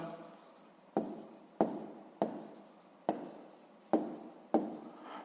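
A pen scratches out a math answer on paper in seven quick firm strokes, each starting sharp and trailing off, close and alone with no talk over it.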